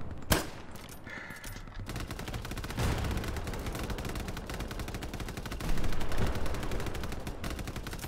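Sustained machine gun fire in the Hell Let Loose clan battle, a dense rapid stream of shots after an opening single crack, loud and continuous with heavier bursts near the middle and late stretch.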